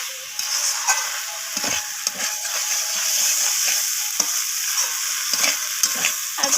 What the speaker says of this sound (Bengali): তো দেখুন এখানে টক দইটা দিয়ে আমি আবারও কষিয়ে নিচ্ছি।